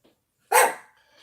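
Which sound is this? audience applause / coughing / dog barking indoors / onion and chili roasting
dog barking indoors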